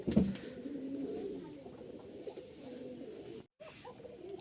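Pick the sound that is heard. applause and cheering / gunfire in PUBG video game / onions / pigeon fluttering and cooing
pigeon fluttering and cooing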